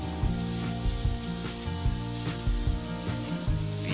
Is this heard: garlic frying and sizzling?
yes